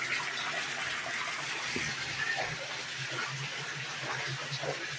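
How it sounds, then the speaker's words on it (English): Water pumped through a homemade koi pond solids filter system, a soft continuous rushing and trickling flow, faint and steady with no voices. "we got the solid matter filter system going. And I say that's going to be pumping 620 gallons an hour"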